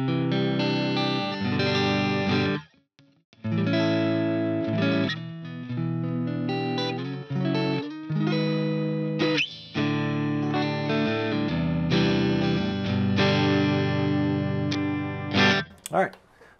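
Vintage USA-made electric guitar played on its neck pickup, sounding as strummed chords and picked notes with effects, in repeated phrases with brief pauses, loud and close.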